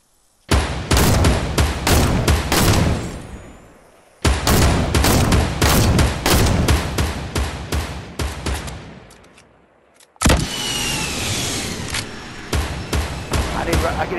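Gunfire in the Fortnite video game comes in three loud rapid volleys of sharp, close shots, each a dense burst that decays before a short pause, with the last run sounding rougher and more scattered.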